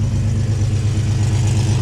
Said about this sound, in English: so that's her revving up